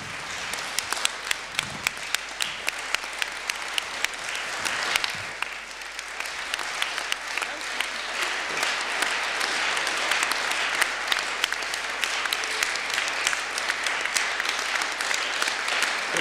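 A large crowd at a Board of Deputies meeting applauds steadily and at length, the clapping dense and sustained, swelling slightly toward the end with no talk over it.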